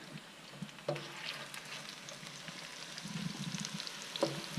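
Meatballs fry on low flame in a pan, a soft, steady close sizzle with occasional crackles and light scraping as they are moved about.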